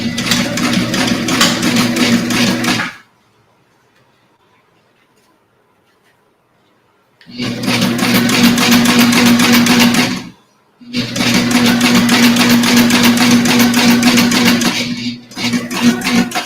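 A Juki sewing machine stitches through a quilted duffle bag in three loud, rapid mechanical runs separated by silent pauses, close by and steady in rhythm.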